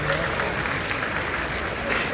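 Crowd applause at a political rally in Karnal, a steady dense wash of clapping from many people that holds at an even level throughout, with a voice speaking over it.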